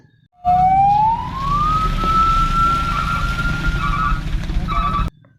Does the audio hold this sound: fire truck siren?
yes